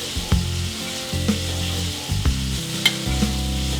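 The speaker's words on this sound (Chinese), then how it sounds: "直接用这个油滑肉丝" Shredded pork stir-frying in hot oil in a wok, with a loud, close, continuous sizzle broken by repeated scraping stirs of a spatula.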